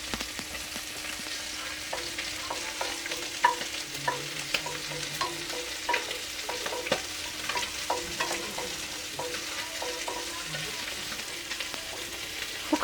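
Cumin seeds and dried red chilies frying in hot oil in a kadai for a fish curry, a steady close sizzle with stirring clicks and scrapes throughout, no talk.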